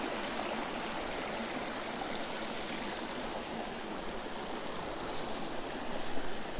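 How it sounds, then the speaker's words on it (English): Steady rushing and splashing of water falling over a small man-made waterfall on a trail, a continuous broadband wash with no voices. "Beautiful little man-made waterfall."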